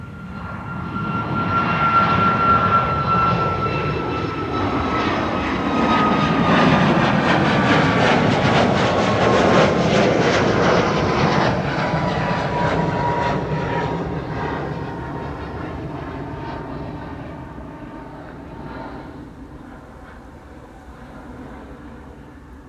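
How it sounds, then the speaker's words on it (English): An Aer Lingus Boeing 737 MAX 8 departs from Schiphol runway 24 bound for Dublin, its jet roar building loudly with a whining engine tone that slowly falls, then fading into the distance, with no voices. "Max 8, 737 to Dublin. Aer Lingus flight 421."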